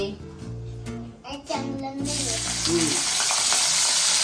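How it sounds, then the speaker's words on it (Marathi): Radish greens and pieces frying in hot oil in a home kitchen, a steady loud sizzle taking over after the first two seconds, with a child's and an adult's voices talking over the opening. "भाजी आपण फ्राय करून घ्यायची"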